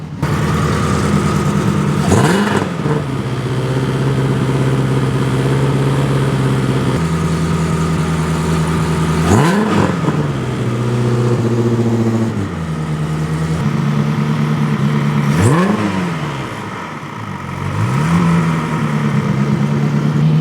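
A Ferrari engine in an Alfa Romeo 105 race car revs repeatedly on a dyno, surging up and dropping back to a steady rumbling idle between bursts, loud and close.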